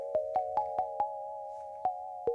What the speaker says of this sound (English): This is another nice bell sound from the